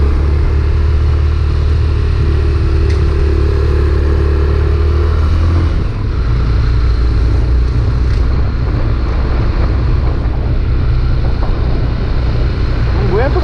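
A motorcycle engine runs with an odd, uneven noise, a loud continuous low rumble that shifts roughness midway, recorded close with some wind buffeting.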